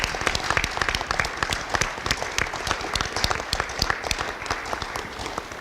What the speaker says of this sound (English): Let's just do a round of applause for everyone.